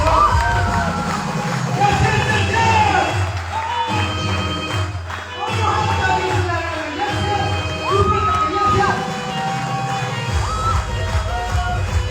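A seminar audience in a hall cheers loudly, with whoops, shouts and scattered clapping forming a dense, steady crowd roar that lasts throughout.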